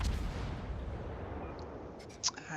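Secondary guns booming in the World of Warships naval video game: a deep rumbling blast fades across the opening, followed by a few sharp, quieter firing cracks near the end.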